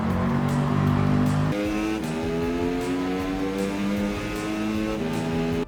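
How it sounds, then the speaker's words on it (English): Mercedes AMG engine in Gran Turismo 7 during an online time trial, a loud continuous harmonic drone whose pitch shifts as the throttle is fluttered and blipped through a turn, with several sharp changes in revs. "Then I flutter the throttle around the next turn until I can go."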